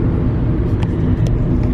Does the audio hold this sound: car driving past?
yes